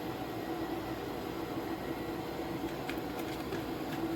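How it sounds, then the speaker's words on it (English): A washing machine runs in the background of a home kitchen, a steady low rumbling drone with a faint rhythmic churn and no voices. "Sorry about the noise in the background, ladies and gentlemen, that's the washing machine."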